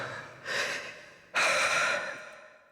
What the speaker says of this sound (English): Heavy breathing.